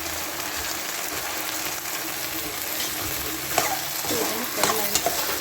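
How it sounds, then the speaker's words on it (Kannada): Brinjal fries in hot tempering in a kadai for vangibath. A loud, dense sizzle runs throughout, with sharper stirring clatters near the end, and no voices are heard. "ಇವಾಗ ಇದನ್ನು ಕಡಾಯಿಗೆ ಹಾಕೋಣ ಒಗ್ಗರಣೆಗೆ."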